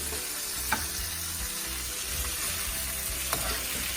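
Boiled saltfish sautés in coconut oil in a pot, giving a steady, close sizzle throughout, with two brief clicks from stirring.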